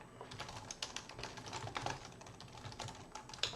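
Quiet, close clicking of a computer keyboard as someone types in uneven bursts of keystrokes for a few seconds, with no talking.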